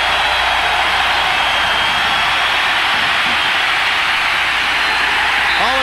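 A huge college football crowd of 96,732 yells at Neyland Stadium in Tennessee during a 1990 Alabama versus Tennessee game, a dense, steady roar that holds loud and unbroken throughout.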